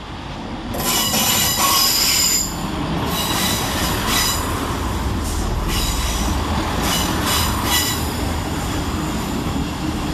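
Transport for Wales units 158822 and 158824 run through Wolverhampton station with a loud rumble, sharp squealing wheels and rhythmic clatter that eases slightly after the first few seconds and stays constant and close.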